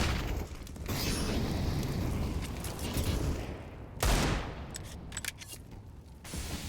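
Pistol gunfire during a Counter-Strike match on the Nuke map: a dense, continuous clatter of sharp shots and impacts, with a louder burst partway through, all fairly faint and mixed with game noise.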